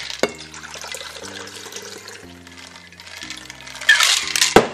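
A drink poured from a cocktail shaker into a glass, a soft liquid trickle with a sharp clink at the start and a louder splash near the end.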